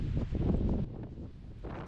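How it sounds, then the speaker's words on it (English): Wind howling across a mountain trail in Guadalupe Mountains National Park, a loud gusty rumble buffeting the microphone, easing briefly before surging again. "the wind is just howling here"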